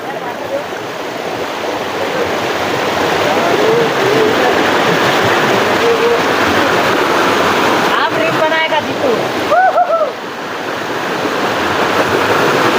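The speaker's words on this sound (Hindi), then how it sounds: "और ये बहुत ही ऊंचाई से पानी गिरता हुआ लगातार" Gidiya Khoh waterfall plunges from a great height, a loud continuous rushing roar of falling water that fills the scene, with a few faint bird chirps partway through.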